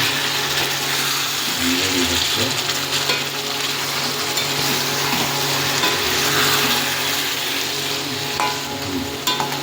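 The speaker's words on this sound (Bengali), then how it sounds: "বন্ধুরা দেখি মাংসটা যেমন কষা হচ্ছে তো দেখুন আস্তে আস্তে হচ্ছে" Mutton with mushrooms frying in a pan, a steady loud sizzle that persists throughout, with occasional stirring scrapes and no talk.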